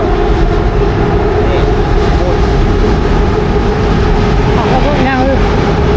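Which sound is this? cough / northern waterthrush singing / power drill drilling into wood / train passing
train passing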